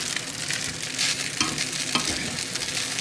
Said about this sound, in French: Là, on a des pâtes qui prennent bien, qui caramélisent, qui sont croustillantes